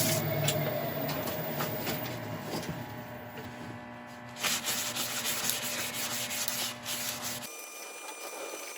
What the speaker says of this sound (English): we'll just cut this back with some True Grit abrasive paste